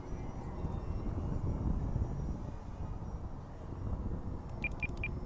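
An E-Flite 1.2 m Decathlon RC airplane on its maiden flight drones steadily overhead, its electric motor a continuous broadband whir with gentle swells in loudness, joined by a few short electronic beeps near the end.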